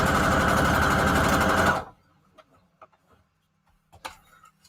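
A sewing machine runs a straight stitch on fabric tags, giving a loud, steady, close whir for almost two seconds that stops abruptly, followed by faint clicks and rustling.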